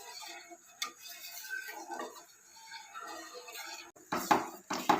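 Scraping and clinking of a spoon stirring banana caramel pudding thickening in a pot, soft irregular strokes rising to a few sharper knocks against the pan near the end.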